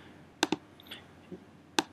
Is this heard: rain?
no